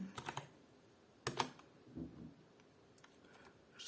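Keystrokes on a computer keyboard entering a command for Debian 8.0 Jessie on a Wii, heard as a few sparse, faint clicks and short bursts in a quiet room.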